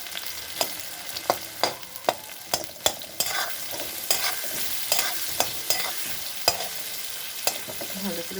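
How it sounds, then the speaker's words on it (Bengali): Chopped onion and garlic stir-fried in a pan, a continuous sizzle broken by repeated sharp spatula scrapes and taps against the pan in an irregular rhythm, close and fairly loud with no talking. "ভালো করে ভেজে নেব।"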